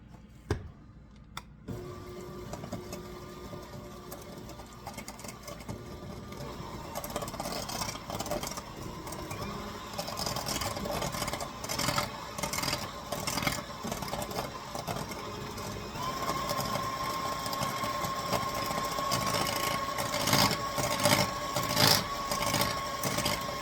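A small electric mixer whirring and rattling steadily as it beats raisin bread loaf dough for a Sunday brunch loaf, a close, continuous motor drone with clicking bumps and no talk.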